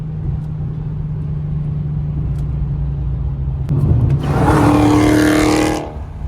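A loud car engine at a car meet by the bay: a steady low idle rumble, then a sharp, roaring rev that swells for about two seconds before cutting back to idle, with no talking.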